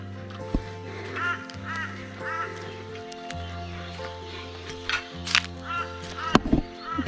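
Wild birds call around an outback creek camp in Queensland, Australia, with repeated croaking, quacking and cawing calls, some close and loud, over a low steady hum and occasional bumps.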